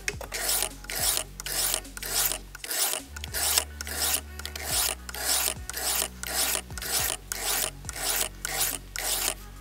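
A kitchen knife is drawn in steady, even strokes across a sharpening stone, about a dozen close rasping scrapes in a regular rhythm.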